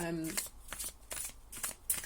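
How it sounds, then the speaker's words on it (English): Tarot cards are shuffled by hand in a rapid series of crisp riffling bursts, close to the ear, with a voice speaking at the start. "I'll keep shuffling as I pick up messages for you."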